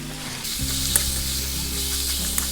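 Skinned pork belly and shallots stir-fry in a pan with a steady, dense sizzle and occasional light scrapes of stirring. The sound is close and continuous, with no talking.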